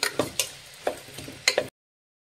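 Spoon stirring lima bean curry in a pan, several sharp scraping clinks in an uneven rhythm, close up, ending abruptly in silence.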